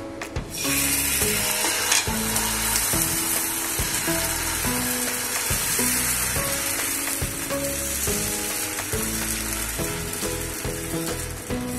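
Ground lentil dosa batter poured onto a hot pan, sizzling steadily and loudly with a bright, crackling hiss that runs throughout, alongside a repeating tonal pattern in the background and no talk.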